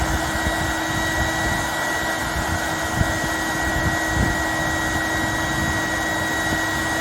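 A vacuum runs continuously close by, sucking up a dense insect swarm: a loud, steady whine and roar with constant hum and a couple of faint knocks, no talking.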